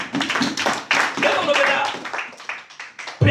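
Worshippers in a church clap for the Lord, a busy burst of claps mixed with voices and shouts over a congregation.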